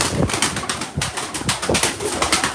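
Pigeons in a loft give off busy wing flapping and rustling, with a few soft coos mixed in, up close and continuous with no voices.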